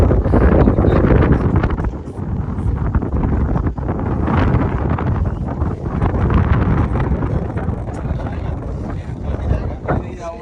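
Strong wind at Kotepally reservoir in the Ananthagiri Hills, a loud, continuous roaring buffet that swells and eases, with a voice faintly mixed in.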